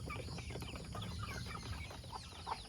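Chickens cluck and chatter around a rural morning feeding, several birds murmuring close by over a steady outdoor background, with a few sharper clucks breaking through and no talking.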